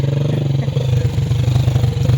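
A motorcycle engine runs loud and close with a steady rumbling throb, pulsing evenly through a short stretch of travel along a road, with no talk over it.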